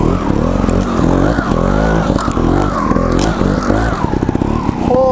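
A Gas Gas TXT 280 trials motorcycle engine putters and revs up close outdoors, its pitch rising and falling with throttle blips and ending in quick stuttering pops.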